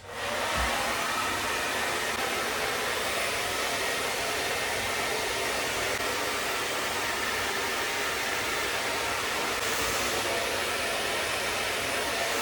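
A hair dryer runs on its highest fan setting with medium heat while curly hair is dried, giving a loud, steady, continuous blowing roar that holds unbroken from start to finish with no talking.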